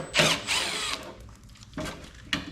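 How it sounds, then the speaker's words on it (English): A power drill spins screws out of the casing of an Amazon plasma cutter in three short, loud whirring bursts, the first longest, with quiet pauses between and no talking. "The best way I've found to take something like this apart is just start taking screws out until there's no screws left in it."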